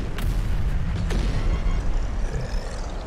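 Howitzer artillery in the Terminator Dark Fate Defiance game booms in a constant low battlefield rumble with a couple of sharper distant shots, loud and dense throughout.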